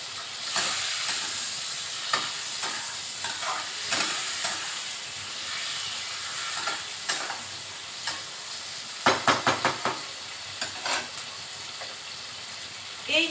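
Green chillies fry in hot oil in a pan, giving a continuous close sizzle with repeated stirring scrapes and a cluster of sharp spatula clinks toward the end.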